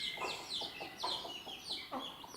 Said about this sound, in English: she's acting like a normal broody hen now